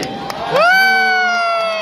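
Fans at a K-pop concert in Manila scream and cheer, a loud sustained high-pitched crowd shout that swells suddenly and holds, with little clapping evident.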